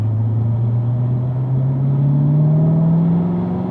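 A car on a wet driving-school track accelerates out of a corner, its engine note rising steadily in pitch as power comes on, loud and close with a smooth droning rumble throughout.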